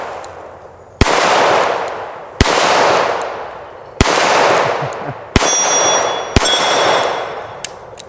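Handgun firing hollow point rounds, five sharp loud shots spaced about a second or more apart, each followed by a ringing echo tail, with a metallic ping near the end.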